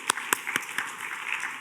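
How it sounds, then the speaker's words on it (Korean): A church youth congregation at Pyeonggwang Church gives a short burst of applause, a few sharp claps up front settling into a softer, scattered patter that fades quickly. "우리 하나님께 영광의 박수 올려드리겠습니다."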